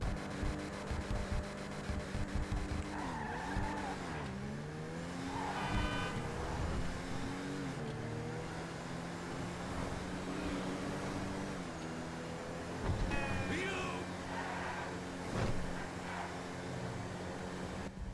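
Engine of the Albany Cavalcade XL car in a video game hums smoothly and softly, rising and falling in pitch as it revs through several throttle changes, with faint tonal toots over the steady drone.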